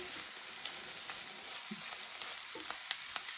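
Steady frying sizzle of onion and cabbage in a pan over moderate heat, with faint crackles and occasional light scrapes of stirring; no voices.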